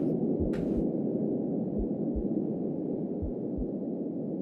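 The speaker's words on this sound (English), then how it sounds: "Here, my heartbeat or someone else's heartbeat." Heartbeat from the horror video game Slide Into The Woods: soft, low double thumps repeating at a slow, steady pace beneath a constant dark rumbling ambience, with one brief hiss early on.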